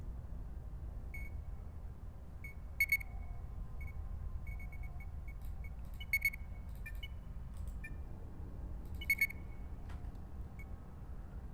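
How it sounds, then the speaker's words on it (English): Low-health warning in the video game P.A.M.E.L.A., sharp electronic double beeps repeating roughly every three seconds, with fainter intermittent blips in between over a quiet low background hum. "that beeping is annoying, but I think it tells me my health is low"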